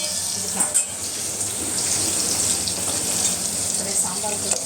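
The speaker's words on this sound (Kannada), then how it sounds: "ಈರುಳ್ಳಿ ಸ್ವಲ್ಪ ಚೆನ್ನಾಗಿ ಫ್ರೈ ಆಗಲಿ" Onions fry in a pan in a home kitchen, a continuous bright hiss with a brief clatter near the start and faint scraping stirs underneath.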